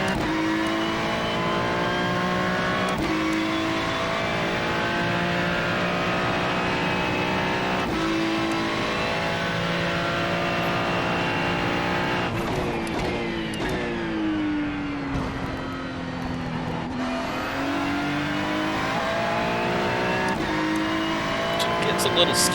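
A Ferrari GT3 race car in the iRacing simulator laps the Charlotte Roval, its engine a continuous high-revving drone that rises and falls through gear changes and corners.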